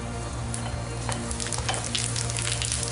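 Cumin seeds sizzling in hot oil for a tempering, a dense, continuous crackle with a low steady hum beneath and scattered sharper pops near the pan.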